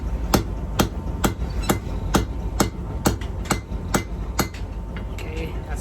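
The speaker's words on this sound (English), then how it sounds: "You see my rivet started to drift one way, so I'm changing the way my hammer goes." Blacksmith hammering a hot rivet on handmade riveted tongs, a steady series of about a dozen sharp, evenly spaced metallic blows, close and loud with no talking.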